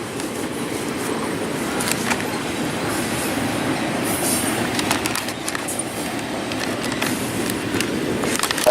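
A BNSF freight train rolls past in Springfield, Missouri, with a continuous loud rumble of wheels on rail, rhythmic clicking over joints and occasional squeals, steady throughout.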